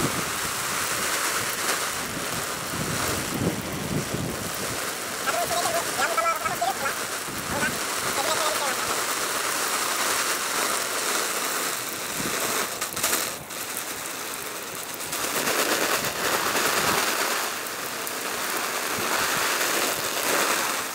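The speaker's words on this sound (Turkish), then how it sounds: "Ne yağmur oluyor şimdi? Nisan yağmurları." Simulated rain sprays steadily onto a Quechua MH100 tent, a dense, loud hiss that patters against the fabric throughout with brief dips in intensity; a voice may be faintly present.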